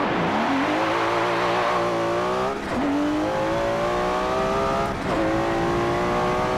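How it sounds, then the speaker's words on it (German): A Nissan GT-R R34 in Forza Motorsport 7 pulls hard from second gear, its engine note climbing steadily, dipping at two quick upshifts, then rising again, loud and continuous. "wir machen nochmal einmal Beschleunigung aus dem zweiten Gang"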